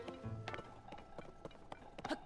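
Horse hooves in Zelda: Tears of the Kingdom, a quiet, irregular clip-clop of several footfalls in the game, alone with no talk.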